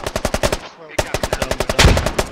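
Rapid automatic gunfire in a tactical military video game operation, a close fast string of evenly spaced shots, a short pause, then another burst ending in a heavier blast.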